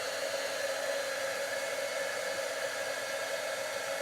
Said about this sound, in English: And then with my heat embossing tool,